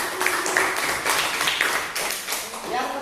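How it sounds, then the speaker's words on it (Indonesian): Classroom applause for a student breaks out, with a steady wash of children's hand claps mixed with lively young voices throughout. "kita berikan tepuk tangan untuk"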